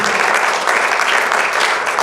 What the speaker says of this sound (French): de les encourager par vos applaudissements à 9 ans